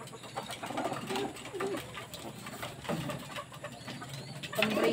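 Domestic pigeons cooing near feeding birds, soft repeated low coos rising and falling under steady background noise, with faint rustling.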